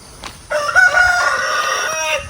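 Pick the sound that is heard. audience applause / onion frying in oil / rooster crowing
rooster crowing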